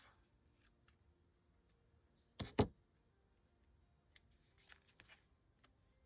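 Scissors snip through a paper tag topper, cutting it in half with one or two sharp, close crisp cuts amid quiet rustling and faint handling clicks.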